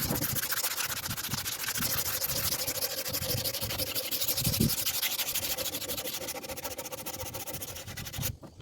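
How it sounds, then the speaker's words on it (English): Sandpaper rubs paint off a two-stroke lawn mower during a restoration, a steady rasping scrub of continuous back-and-forth strokes, close and alone. "So now I'm going to take a little bit of sandpaper. I just got this. Start sanding it down."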